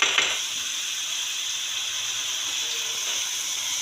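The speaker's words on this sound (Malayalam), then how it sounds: "സവാള നല്ലോണം വഴകട്ടെ" Onions sautéing in a pan for an egg roast, giving a steady, even hiss of sizzling oil that holds throughout with no talk, only a faint scrape near the start.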